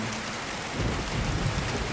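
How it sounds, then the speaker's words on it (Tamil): A thunderstorm with heavy rain pouring steadily while a deep rumble of thunder swells in partway through, loud and close, with no voices. "வெளியே இடி, மழை, மின்னல்னு ஒரே சத்தமாக இருக்கும்"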